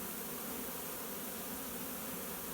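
A honeybee swarm hums steadily inside a swarm trapping box, bees fanning at the entrance, a dense continuous buzz that stays even and close throughout with no voices.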